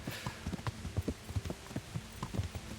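Horse hooves clip-clop at a steady trot in the medieval video game Kingdom Come Deliverance, with a fairly close, regular rhythm of soft thuds and clacks and no talk over them.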